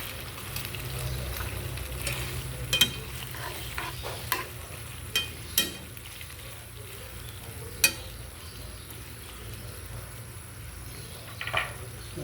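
Pork for lechon paksiw frying and being stirred in a pan, with a steady low sizzle and a few sharp scrapes and clinks of the utensil against the pan, while someone speaks briefly over it.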